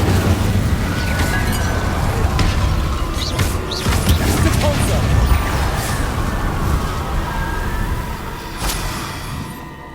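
Confringo spell blasts in the Hogwarts Legacy video game: a few booming explosive bursts with crackling debris over a dense, noisy game soundscape that fades slightly toward the end.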